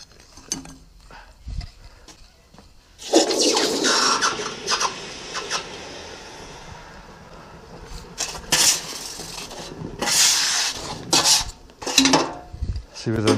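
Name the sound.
hot aluminium casting quenched in water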